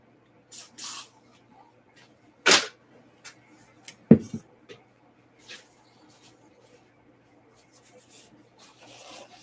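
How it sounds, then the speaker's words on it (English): Silicone spray hisses onto a cup in a handful of short, separate bursts, two of them louder, with quieter rubbing and handling noises between them and no talk. "I am going to spray my cup with the silicone spray."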